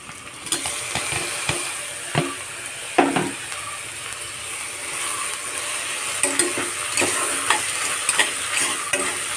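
Chopped tomatoes, four of them, go into a hot pan for a chicken curry and are stirred and fried, giving a steady close sizzle with scattered scraping spoon strokes and light clatters against the pan.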